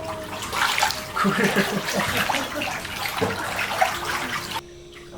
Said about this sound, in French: Et là du coup il y a des bruits de vagues qui sont installés